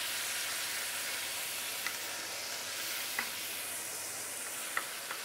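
Fermented salted black beans (douchi) fry over medium heat in a pan, giving a steady broadband sizzle with a few faint clicks of stirring; no voices.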